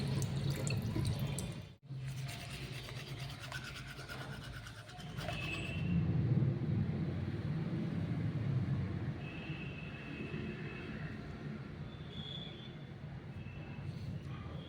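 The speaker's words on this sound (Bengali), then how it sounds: "সকালে এখন মুখ চোখ ধোয়া হয়ে গেছে" A tap runs into a sink while someone washes their face in the morning. The steady water hiss is close and continuous, briefly cut off near the start and then resuming.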